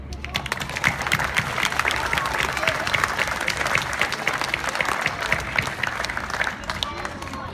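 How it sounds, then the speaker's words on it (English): A big crowd applauds Sparky the Fire Dog at a California legislative 911 Heroes Awards press conference, with steady, dense clapping sustained throughout and some voices mixed in beneath. "Let's have a big round of applause for Sparky the Fire Dog"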